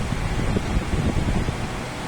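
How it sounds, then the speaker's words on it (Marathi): A steady, close whooshing hum of an air cooler fan running at speed three, continuous broadband air noise with no talking. "आता मी तीन नंबर स्पीडवर ठेवलेला आहे हा कूलर"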